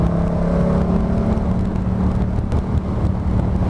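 A Yamaha MT-07 motorcycle fitted with an aftermarket exhaust rides along with a continuous, loud engine drone and steady wind rush, with no talking over it.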